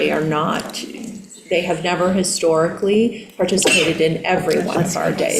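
A single sneeze bursts out partway through a board of education subcommittee meeting, briefly audible amid continuous close speech that runs before and after it.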